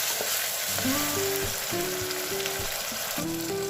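A steady, loud sizzle of ginger-garlic paste frying in a hot pan, with soft stirring scrapes and a few tonal whines from the stove area.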